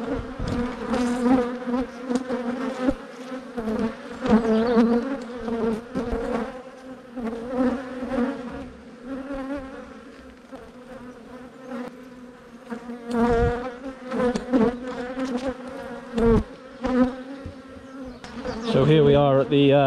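A dense swarm of honey bees at a hive buzzing loudly and continuously up close, with droning tones shifting as individual insects pass near.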